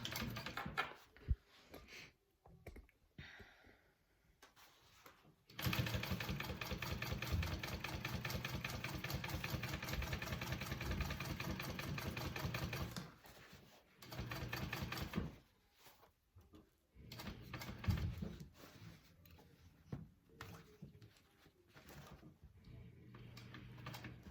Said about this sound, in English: I'm going to separate this pocket by sewing down one side of the seam and over and across to the next.